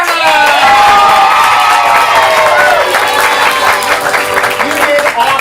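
An audience at a ComedySportz improv comedy show in Portland cheers, whoops and applauds loudly for several seconds, with excited shouting voices layered over the clapping.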